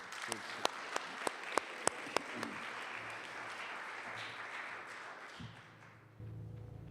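An audience applauds to welcome a presenter at a chapel service, sustained clapping with a few sharp nearby claps at the start, fading out after several seconds into room quiet.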